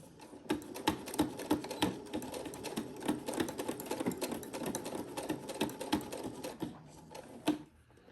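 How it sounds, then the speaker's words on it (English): A sewing machine stitches forward and reverse along the edge of a fabric zipper pouch, a close run of rapid, rhythmic needle clicks and motor whir that varies in speed, then stops. "We are going to lower our needle and stitch forward and reverse."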